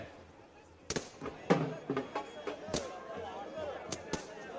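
Firecrackers burst in celebration outside a BJP office in Delhi on election result day, a run of sharp cracks and bangs at irregular intervals over crowd noise, with a reporter talking throughout.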